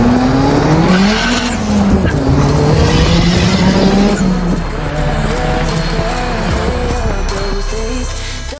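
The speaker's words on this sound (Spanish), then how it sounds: "El 20 válvulas se escucha lindo cuando va andando" A Toyota Tercel 20-valve engine, turbocharged, runs loudly and steadily close by, its pitch wavering and rising as it revs, with a continuous broadband roar and no speech.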